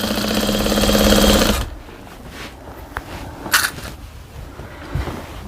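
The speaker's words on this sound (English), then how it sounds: "I'm just sewing from pin to pin." Sewing machine stitching a receiving blanket, a loud steady mechanical whir for about a second and a half that then stops, leaving faint handling sounds and fabric rustle.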